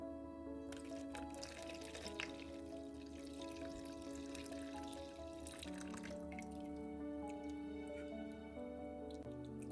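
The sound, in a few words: beetroot carrot juice dripping through a strainer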